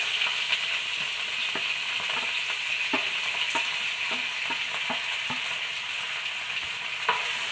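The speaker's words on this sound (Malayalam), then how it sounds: "ഒന്ന് നെയ്യിൽ വഴറ്റിയെടുക്കണം" Chopped cashew nuts and raisins frying in ghee, a steady close sizzle with scattered soft pops and stirring clicks throughout, no talking.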